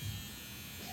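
A cordless Andis Masters Li hair clipper runs with a steady close electric buzz and hum through the whole second.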